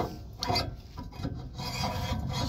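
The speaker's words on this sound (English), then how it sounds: "now we're gonna go ahead and insert the shaft" A steel camshaft being pushed into a greased bushing on a semi-trailer, a rough scraping, rubbing grind with uneven strokes, close and moderately loud.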